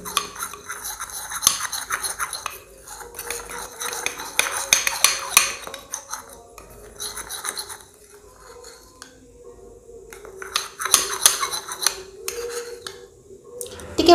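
A spoon mixes rice flour into a milk face pack in a small bowl, making bursts of close scraping and clinking against the bowl with brief quiet gaps between strokes.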